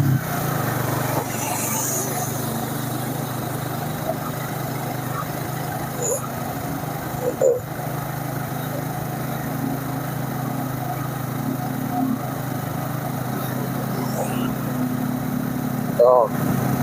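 A Yamaha Vixion motorcycle engine idles steadily nearby with an even low thrum, while someone talks over it; a couple of brief clicks break the otherwise constant running sound.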